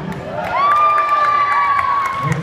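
Spectators at an indoor donkey basketball game shout and cheer for the black team, a swelling, sustained roar of voices with children's yells that tapers off near the end.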